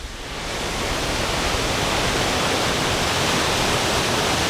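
A large waterfall carrying a heavy flow of water roars in a steady, loud, broadband rush that swells in over the first half second and then holds constant, with no voices.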